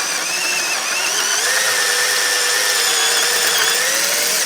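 A power drill spins continuously at high speed against a drill bit broken off in a hole. The whine is loud and steady, with a faint pitch drift and no talk over it.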